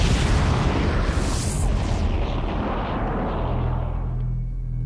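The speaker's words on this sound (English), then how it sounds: "there was an explosion." A deep, rumbling explosion sound effect opens loud and full, a roaring blast that slowly dies away into a low boom over about five seconds, with no voices.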